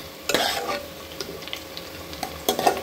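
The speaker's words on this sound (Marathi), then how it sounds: "आता हा कांदा मी अगदी थोडा भाजलेला आहे, हा जास्त लाल नाही करायचा" Onion frying lightly in a pan is stirred with a utensil, giving a soft steady sizzle broken by a few scraping stir strokes, close and fairly quiet.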